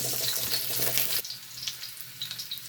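Ginger and onion hit hot cooking oil with a bright, dense sizzle that fills the first second, then settle into a quieter crackle with faint scattered pops, close by and without any voices.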